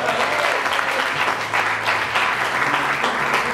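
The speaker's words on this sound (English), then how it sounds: "give the chairman a round of applause for putting this together." A crowd claps loudly and continuously at a showcase event, dense applause filling the whole stretch without pause.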